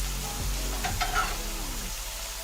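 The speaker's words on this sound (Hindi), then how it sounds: "और इसको तकरीबन 5 से 8 मिनट तक फ्राई कर लेंगे दरमियानी आंच पे" Egg fried rice sizzling and frying in a pan over medium heat with chili sauce and soy sauce, a steady close hiss with a few stirring scrapes, no voices.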